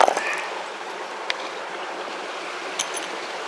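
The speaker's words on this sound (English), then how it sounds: "We'll put some water on there." Water is poured over a rock dug while rockhounding on a mining claim, giving a steady broadband splashing and trickling wash with a couple of small clinks, close by and with no talk.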